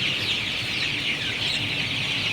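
Sonali super hybrid chicks, about four weeks old, on a chicken farm, with a dense, continuous chorus of clucking and peeping from many birds at close range, steady throughout with no talking.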